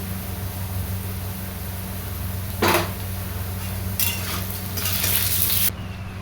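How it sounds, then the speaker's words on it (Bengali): Potatoes frying in a pan give a soft, steady sizzle, with a sharp burst of spattering and a few utensil clinks and scrapes partway through. "আবার আলুটা ভাজছি"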